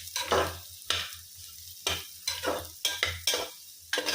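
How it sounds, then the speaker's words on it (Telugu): Food fries in a pan while being stirred in distinct bursts, about eight scraping strokes at an uneven rhythm over a low sizzle, close and clear. "కొంచెం ఫ్రై చేసుకోండి"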